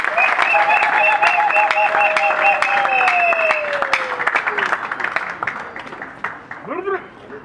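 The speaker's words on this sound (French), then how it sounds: "Applaudissons encore une fois." Loud audience applause follows a student speech at an ISPD gathering in South Kivu, with steady clapping carrying under a held, wavering voice or tone before tapering off with a few vocal sounds near the end.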